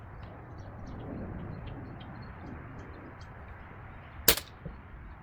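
A single sharp crack of a Crosman Crusher air rifle shot rings out loud and close against a quiet, faintly hissing background, followed by a brief small after-sound.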